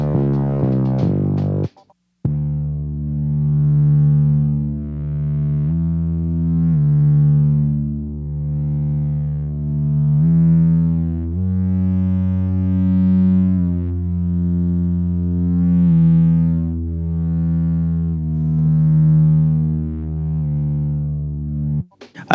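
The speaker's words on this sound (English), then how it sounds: "But anyway, yeah, the bass sounds like this." A synth bass from Studio One's stock Presence synth with glide, playing a slow, smooth line of sustained, buzzy low notes that swell and slide between pitches, loud and alone for about twenty seconds.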